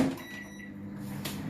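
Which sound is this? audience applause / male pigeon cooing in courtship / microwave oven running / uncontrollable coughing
microwave oven running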